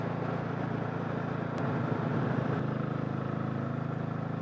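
A Royal Enfield J series motorcycle with a big bore 410 upgrade riding steadily at just under 50 mph in fifth gear, a continuous close engine drone mixed with wind rush.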